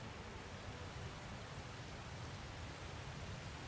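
Rain in the video game Tales of Zestiria, a constant soft hiss of downpour with a low rumble beneath, steady and unchanging, quiet and without voices.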